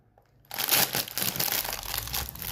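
A new Labubu toy package is unwrapped, with loud, close plastic crinkling and crumpling that starts abruptly after a brief quiet moment and continues unevenly to the end.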